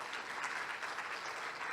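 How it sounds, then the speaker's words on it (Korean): An audience applauds a speaker at a Korean scientists' congress forum, a brief steady wash of many hands clapping at a moderate distance, even and continuous with no talking over it. "암의 정복과 관련된 다양한 방법들을 소개해 주신 예민경님께 다시 한번 큰 박수 부탁드립니다."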